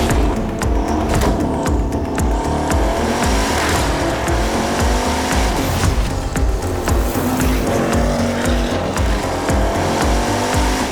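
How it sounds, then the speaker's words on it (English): A 1600 horsepower track-only Bugatti hypercar roars at Paul Ricard circuit, its engine loud and close with rising and falling revs and gear changes throughout. "We're at Paul Ricard with Bugatti's monstrous 1600 horsepower track-only hypercar."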